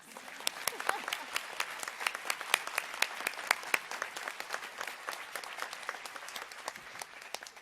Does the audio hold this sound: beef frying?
no